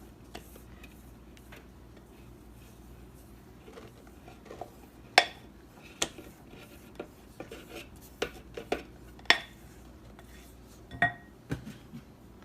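Custard powder goes into a food processor with a string of sharp clinks and taps of utensils against the bowl, scattered irregularly and growing more frequent, over a quiet room.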